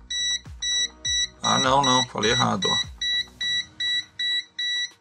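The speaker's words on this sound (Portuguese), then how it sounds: "Me parece que o bip é sempre contínuo." Steady repeating beeps from a low-cost VM600A professional multimeter's non-contact voltage (NCV) detector, about eight short even tones, close and clear, with a person speaking briefly over the middle of the sequence.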